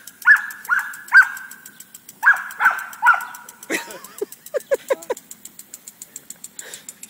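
A dog barks in a series of short, sharp yips and woofs while chasing the spray from a lawn sprinkler outdoors. The barks come in quick repeated bursts with a rattling water spray in the background.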